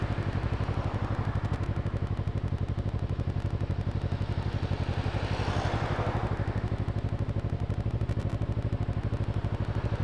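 A motorcycle engine drones steadily and loudly throughout, with a rhythmic clattering pulse and a brief swell of rushing wind midway.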